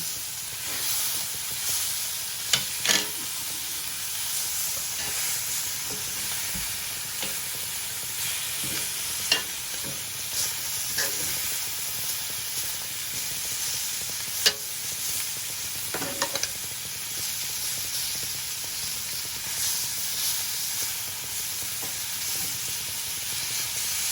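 Jerk pork sizzling steadily on a grill with onions and green peppers, a continuous close hiss and crackle broken by a few sharp pops and scrapes, with no talking.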